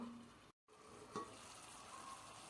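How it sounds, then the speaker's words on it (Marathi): Tomato masala with homemade chutney, turmeric and salt sizzles and fries in a pan, a steady close hiss with a brief clatter of stirring, and no one speaking. "2 मिनिटं ते सगळे मसाले शिजू देऊया."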